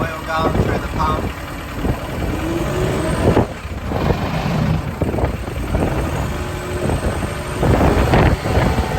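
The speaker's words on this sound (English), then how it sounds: "You can hear the oil going through the pump." Diesel engine idling steadily on a Kenworth S2 truck as oil circulates through the pump, a continuous low rumble with clanking and knocking over the whole stretch and some talk in the background.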